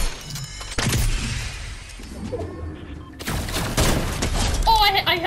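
Heavy sniper shots and bursts of gunfire crash loudly in a video game, with dense clattering volleys and breaking sounds while players talk excitedly over the action.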